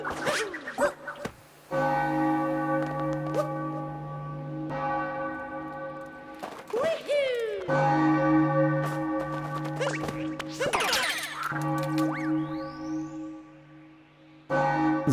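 A church tower bell in the video game Super Mario Odyssey rings in sustained, overlapping metallic tones that swell and linger, broken by brief sharp game sound effects and a short rising whine.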